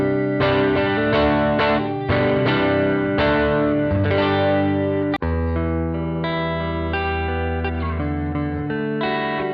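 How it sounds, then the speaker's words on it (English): Electric guitar played through a NuX amp simulation of a 6V6 tube amp, miked with a Royer 121 ribbon mic, strummed chords with effects and a sharp transient near the middle, ringing on steadily alone. "6v6, and let's mic it with a Royer 121. Those tubes are a lot less loud, so we'll crank the level back up."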